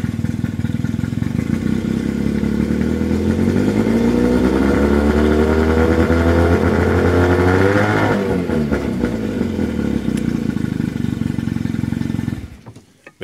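An old 1977 Evinrude 15 hp outboard motor runs loudly and steadily close by after repair, its engine note rising and falling before cutting out at the end.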